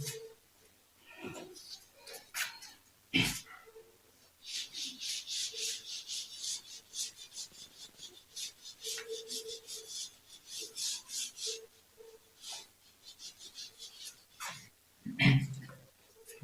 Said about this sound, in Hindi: इसको मैं रब कर दे रहा हूँ